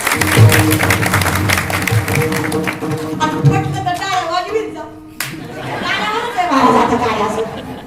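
An audience claps in bursts during a Marathi kirtan led by a kirtankar at Narayangaon, the applause mixed with crowd chatter and a loud voice addressing the gathering.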